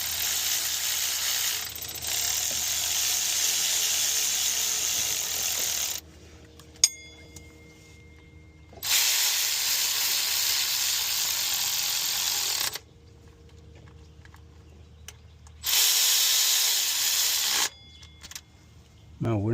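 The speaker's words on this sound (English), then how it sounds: "We're going to do use a cordless wrench" A cordless wrench runs bolts in gently on the water pump of a 2004 Chevy Tahoe, in three sustained whirring bursts broken by quieter gaps with small ratcheting clicks.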